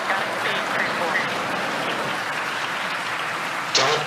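A crowd applauds steadily at the Falcon 9 Crew 4 liftoff, dense clapping spread wide with voices mixed in and a louder swell near the end.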